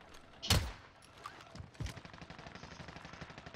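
A single loud, sharp sniper rifle crack in a Call of Duty Warzone match on Rebirth Island, followed by a softer shot and a quieter stretch of distant scattered gunfire and movement.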